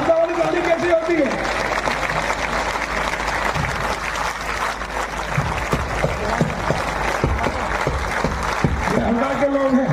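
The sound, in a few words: crowd applauding at a political rally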